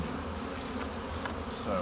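Honey bees buzz steadily in an opened hive with a super on top while the colony draws comb, a dense, continuous close-up drone holding an even level throughout.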